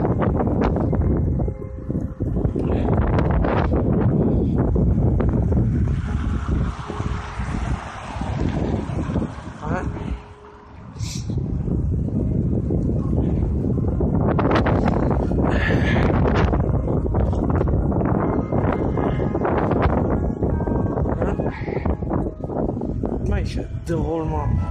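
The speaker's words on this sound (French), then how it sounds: "Passe un coup de vent." Cold gusting wind buffets the microphone outdoors as a loud, continuous roar that dips briefly about halfway through, with a voice speaking under it.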